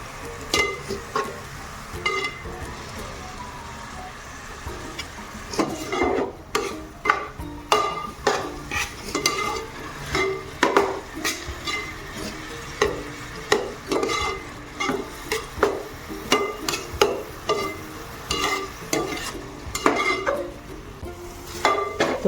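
Onion and tomato for pav bhaji are sautéed in a pan, with repeated scraping and clattering of a spoon against metal over a soft sizzle, close and rhythmic, with no voices.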